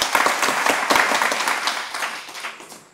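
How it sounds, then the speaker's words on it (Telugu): Audience applause fills a devotional gathering, loud and dense at first, then slowly thinning toward the end with no talk over it. "ఒకసారి గట్టిగా చప్పట్లు కొట్టాలి."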